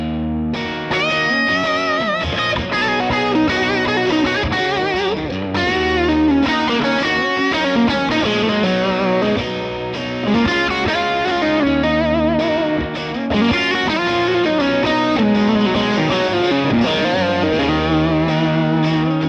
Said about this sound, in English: the cleaner riff and the more overdriven AC30 sounds, they really go together well.